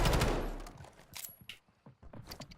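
Gunfire in Call of Duty: Warzone, an opening burst of heavy automatic fire that fades, followed by scattered sharp single shots and short bursts nearby.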